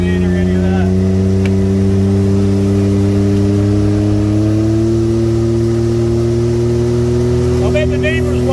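Car engine with a straight pipe exhaust and no muffler or resonator, idling loudly and steadily with a deep droning tone that slowly rises in pitch as it revs, close and continuous throughout.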